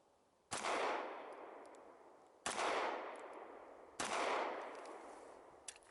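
Three loud gunshots from a Glock 17 or Smith & Wesson M&P9 9mm pistol crack out about two seconds apart, each sharp and close with a long ringing tail, no voices.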